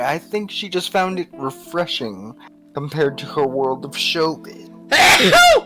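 A woman sneezes once, loud and close, after a stretch of ordinary conversation between voices.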